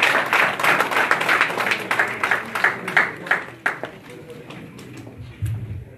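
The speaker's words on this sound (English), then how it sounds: "Can you clap for him, please?" Audience at a Toronto rally clapping for a man called up in recognition, a burst of many hands near and fairly loud that thins out over several seconds, with voices mixed in.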